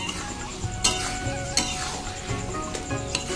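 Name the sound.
taro leaves being stirred and fried in a wok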